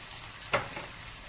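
Garlic with red, yellow and green bell peppers frying in a pan, a quiet low sizzle with one sharp clatter of food hitting the hot surface near the middle.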